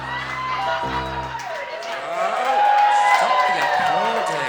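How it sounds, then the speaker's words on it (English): A burlesque and cabaret audience at a lounge breaks into clapping and whoops after a song, the crowd noise swelling and holding steady while voices call out over it. "Stop the applauding."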